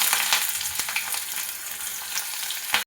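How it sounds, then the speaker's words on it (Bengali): Chopped onions dropped into hot mustard oil tempered with cloves, cardamom, cinnamon, bay leaf and cumin, frying with a loud, dense, continuous sizzle and occasional stirring clicks, close up. "ফোড়ন থেকে সুন্দর একটা গন্ধ এলে এর মধ্যে দিয়ে দেবো পেঁয়াজ কুচি"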